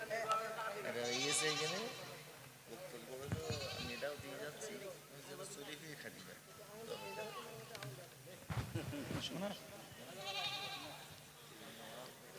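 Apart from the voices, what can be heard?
goat bleating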